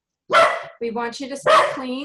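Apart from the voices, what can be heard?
dog barking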